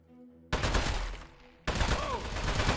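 Gunfire aimed at the boss in Aperture Desk Job: two loud, dense bursts of rapid shots, the first starting sharply after a short musical lead-in and the second cutting in a second later.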